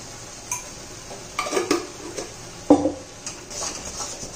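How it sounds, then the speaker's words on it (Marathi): Spoon scraping and clattering against a pan while a thick tamarind candy mixture with chaat masala and rock salt is stirred; a few distinct clinks and scrapes at irregular intervals, close and moderately quiet, with no talk. "आता घट्टसर होईपर्यंत आपल्याला हलवत राहायचंय"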